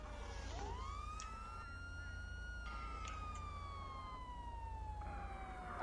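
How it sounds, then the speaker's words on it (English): A police car siren wails in the video game GTA V, one long loud sweeping tone that rises and then slowly falls over a constant engine drone, with no talking. "You're gonna go ahead and cut off your siren."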